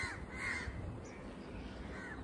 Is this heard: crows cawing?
yes